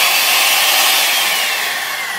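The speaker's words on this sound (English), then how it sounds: "This is a steel saw." A steel saw running off the power outlet of a Via Motors VTRUX truck gives a loud, continuous high-pitched whine and hiss, steady and unbroken throughout.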